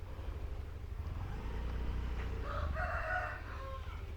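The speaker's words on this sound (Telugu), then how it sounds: "ఇక చూడండి కోడి పందాల కోసం కోళ్ళు ఎలా పెంచుతున్నారో మీకు." Roosters raised for cockfighting crow at a village farm, a clear drawn-out call rising in the second half over a steady low rumble of background noise.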